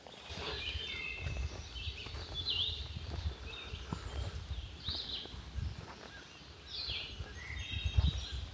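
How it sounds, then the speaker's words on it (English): Several birds chirp and trill in short morning bursts against a soft outdoor backdrop on the Appalachian Trail, with faint footsteps shuffling underneath. "The birds are unbelievable."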